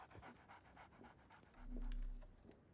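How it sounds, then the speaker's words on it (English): Dog panting in the video game Sherlock Holmes the Awakened, a quick rhythmic series of breathy huffs at close range, with a low thud partway through. "we got something to do with this dog here"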